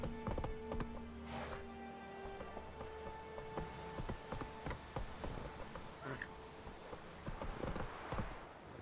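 Hooves of the horse Roach running in a video game, a brisk clip-clop rhythm over a rain-like hiss, with a brief whinny and occasional background voice.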